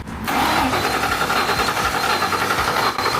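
An old, long-abandoned Ford Mustang GT engine cranks on the starter in a steady, loud churning run for about three seconds, close up, with no speech.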